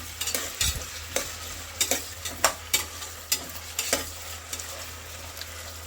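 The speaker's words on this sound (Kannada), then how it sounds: "ಹಾಗೆ ಈರುಳ್ಳಿ ಕೂಡ ಆ್ಯಡ್ ಮಾಡ್ಕೊಳ್ಳೋಣ. ಫ್ರೈ ಮಾಡ್ಕೊಳ್ಳಿ." Onions frying in oil over a medium flame for chicken biryani make a soft, constant sizzle. Sharp stirring scrapes from a spatula against the pan land every half second or so, close and clear.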